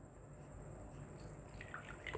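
Whey dripping and trickling from curdled milk held up in a muslin cloth, faint, with a few soft drips growing more distinct toward the end.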